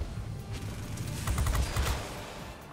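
Rockets fire from an F-94D Starfire jet in the World of Warplanes combat flight game, heard as a dense rumbling volley of rapid bursts over steady engine drone, swelling louder midway, with no talking.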